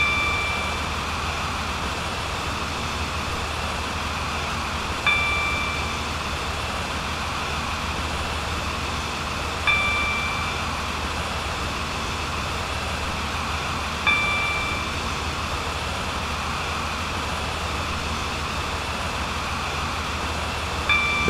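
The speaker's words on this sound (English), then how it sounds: "The train now approaching platform 2 does not stop here." A Stepford County Railway train in Roblox runs past a station platform without stopping, giving a steady, even rumble. A brief high tone repeats about every five seconds, and there is no talk.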